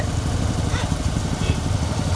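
A motorcycle engine runs steadily with a low rumbling drone, fairly loud and continuous throughout, with faint background chatter.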